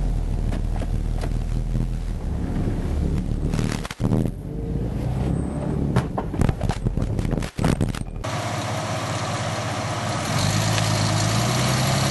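A 1988 Jeep Cherokee engine idles with a low steady rumble outdoors, mixed with wind buffeting and a few brief knocks, then a louder, brighter stretch near the end.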